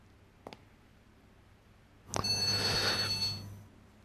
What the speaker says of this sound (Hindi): वो आपका फोन बज रहा है।